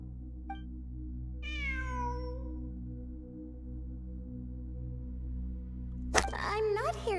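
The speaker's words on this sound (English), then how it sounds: "It really is a cat." A single clear cat meow, falling in pitch, sounds inside a video game over a steady low droning background hum, with a faint short chirp just before it and a sudden loud, harsh burst of sound near the end.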